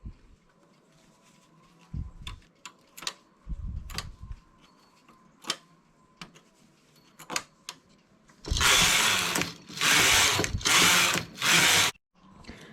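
A flatbed knitting machine works rows of a round neckline finish: scattered sharp ticks and clicks, then from about eight seconds a run of loud rasping carriage passes sweeping back and forth in steady strokes; no talking.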